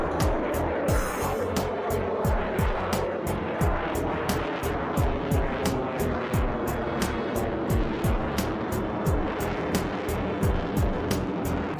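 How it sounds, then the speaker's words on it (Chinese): A Su-57 fighter jet flies and climbs during aerobatic manoeuvres, giving a loud, continuous engine roar with rising and falling whine, steady throughout under a regular ticking pulse. "随后苏-57再次向上拉升，做出高难度动作"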